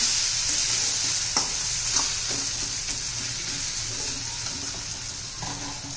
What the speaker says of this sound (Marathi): आता हे मसाले घालून 1-2 मिनिटं त्यांना आपण मसाला परतून घेऊया